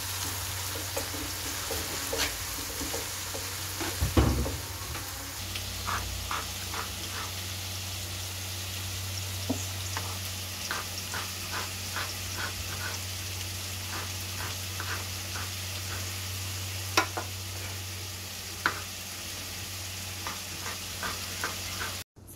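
Minced meat sizzling steadily in a pan on a home stove, a continuous frying hiss with scattered light pops and a few stirring scrapes, close and moderately loud.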